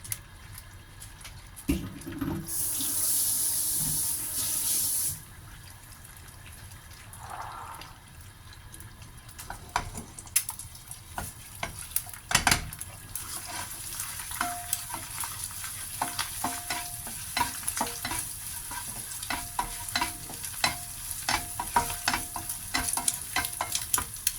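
Shallots and carrots stir-fried in a little oil for eel fried rice: a close, steady sizzle with frequent scraping and clinking of a spatula against the pan, no one speaking.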